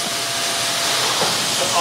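Steam hisses steadily from a carpet-cleaning wand during a greasy, gum-filled carpet cleaning job: a loud, continuous broadband rush with no pauses and no voices.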